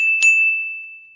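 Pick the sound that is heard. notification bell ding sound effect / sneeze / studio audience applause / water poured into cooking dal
notification bell ding sound effect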